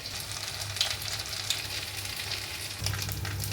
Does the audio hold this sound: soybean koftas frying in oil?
yes